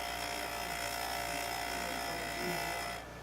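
JOOLTOOL grinder working on a curved texturing chisel, a continuous high whirring grind held steadily close up, easing off and stopping near the end.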